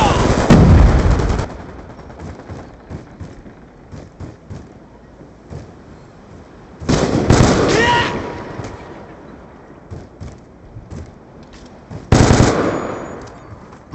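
Grenade blasts and rapid automatic gunfire in a Black Ops II battle, with three loud explosive bursts standing out over a steady rattle of distant shots.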